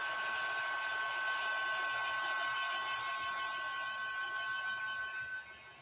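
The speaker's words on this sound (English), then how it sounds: "So heat gun, guys." A heat gun blows hot air in a steady, high whirring drone with a faint tonal whine, continuous and close before easing off at the end.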